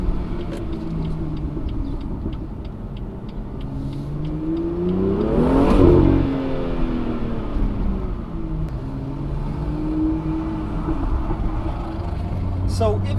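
A stock BMW M2 with the N55 engine and exhaust cruises through town at low speed, giving a continuous deep engine drone and exhaust burble that swells briefly mid-way, heard from inside the car.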